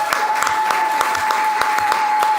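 An awards-ceremony audience claps steadily, a dense wash of many hands with sharp individual claps scattered through it, close and sustained. A constant steady tone runs underneath the whole time.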